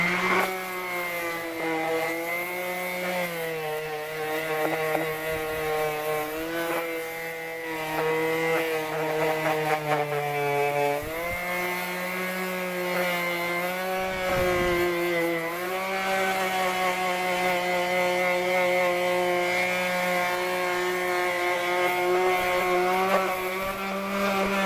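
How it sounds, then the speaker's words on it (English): An aluminum mag rim being worked with 80-grit sandpaper on a power sander: a steady, loud motor whine with shifting pitch that dips and rises as pressure changes, running continuously with no voices. "We're gonna get started with 80 grit sandpaper."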